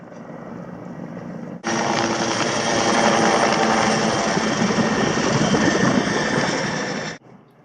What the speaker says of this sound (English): Helicopters all over the place.